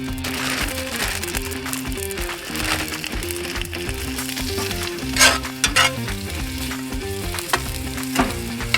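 Loud, continuous sizzling and frying of meat in a hot pan at a winter campsite, with occasional sharper crackles and spatters over the steady hiss.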